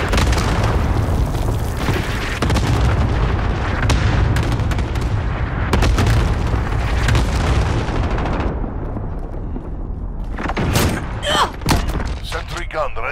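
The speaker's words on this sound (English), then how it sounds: "Allied cluster strike inbound." Allied cluster strike in Call of Duty: Modern Warfare, with a dense, loud rumble of overlapping booms and thuds rolling for several seconds, then fading into scattered crackling and a radio-style voice.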